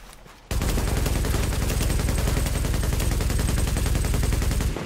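Sustained automatic gunfire from the shooter game The Division on PS4 erupts after a quiet moment, rattling in a rapid, loud, continuous burst that lasts several seconds.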